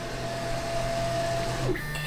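Quieted stepper motors move the axes of a Prusa MK2 3D printer, giving a soft, steady mechanical whir with faint tonal whines. The pitch shifts as the motion changes near the end, and no one talks.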